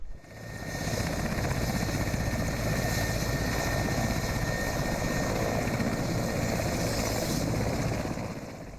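A military helicopter carrying counter-terrorism forces flies over a flooded area in Mali, a steady, moderately loud rotor drone with a constant whine that holds level throughout.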